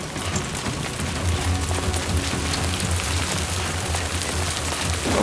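Steady rain in the Death Stranding 2 video game pours onto surfaces as a dense, continuous hiss, loud and close, with a low rumble underneath and no talking.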